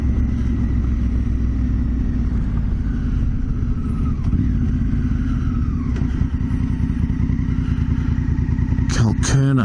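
A Honda Africa Twin motorcycle is ridden through the outback in a steady, loud engine drone with constant low rumble and wind buffeting, ending in a brief burst of clatter.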